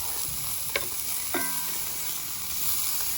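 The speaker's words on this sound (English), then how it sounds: "I've put some olive oil in the bottom, and I'm just going to gently fry these up" Zucchini zoodles gently frying in olive oil in a cast iron skillet, a steady quiet sizzle with a couple of brief utensil taps.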